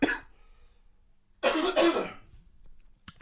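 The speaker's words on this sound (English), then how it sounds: "Sorry about the coughs." A short cough at the start, then a louder burst of two or three harsh coughs in the middle, followed by quiet.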